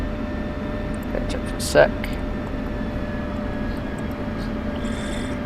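An F-16CM jet engine in Digital Combat Simulator runs as a steady whining hum beneath a brief spoken comment, with a short click partway through.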